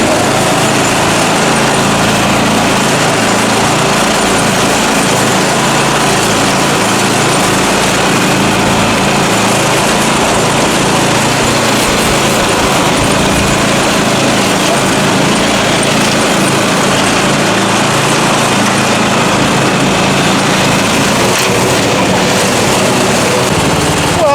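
A small Simplicity Broadmoor lawn tractor engine runs steadily and loudly close by, its high-pitched motor droning without a break for the whole stretch.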